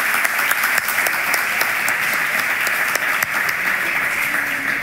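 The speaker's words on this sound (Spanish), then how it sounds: "Y un aplauso para ella." Audience clapping for a guest on a live talk show in Murcia, loud and continuous with some distinct individual claps standing out, no voices over it.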